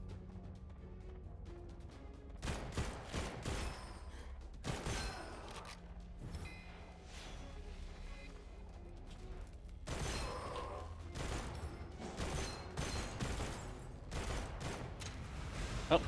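Bursts of video game gunfire from a hard-kicking weapon, rapid volleys fired in several separate clusters with short pauses between, loud and close with some mechanical clatter.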